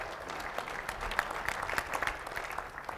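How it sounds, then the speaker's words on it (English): A forum audience in Illinois breaks into steady applause, a dense wash of many hands clapping at even loudness throughout, with no voices over it. "you can applaud"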